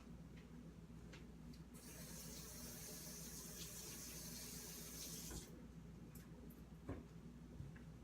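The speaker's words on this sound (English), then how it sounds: "Let me wash my hands" Tap water runs steadily into a kitchen sink during hand washing, a broad continuous hiss that starts after a couple of seconds and stops abruptly near the five-and-a-half-second mark, with faint kitchen clatter afterward.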